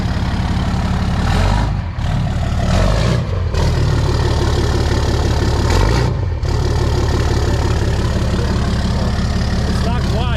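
A Ram 6.7 diesel pickup with a Spelab 4-inch turbo-back exhaust runs loud and rough at a deep idle, with a few brief revs and dips in the rumble throughout.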